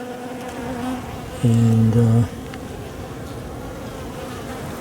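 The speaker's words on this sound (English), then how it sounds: "I don't know why bees always need to be in the way." Honeybees buzz during a winter hive inspection. A steady low hum of the colony runs throughout, and one bee flies close and loud for under a second before fading back into the background drone.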